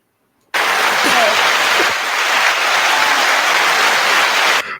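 A sudden burst of studio audience applause on a music podcast, loud, dense and close, holding steady for about four seconds before cutting off abruptly.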